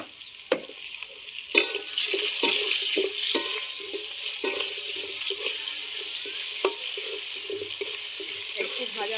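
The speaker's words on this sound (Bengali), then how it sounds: "আলুটা ভাজা ভাজা হয়ে গেছে," Potatoes seasoned with salt and turmeric fry in a pan, a soft steady sizzle broken by irregular scrapes and clacks of a spatula stirring against the metal.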